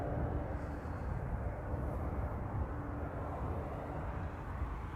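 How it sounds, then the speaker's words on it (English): A KLM airliner arriving from Nuremberg at Amsterdam Schiphol on a misty morning, heard as a steady low engine rumble that holds evenly throughout, moderately distant with no voices. "This is KLM flight 1840 arriving from Nuremberg."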